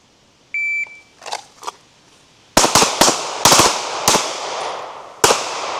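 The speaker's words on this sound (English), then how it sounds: "fire 3 rounds in 6 seconds" Handgun shots at an outdoor shooting range, a drill of a few rapid rounds: a steady electronic start beep, then a quick string of sharp, loud cracks with short gaps between them, each ringing out briefly.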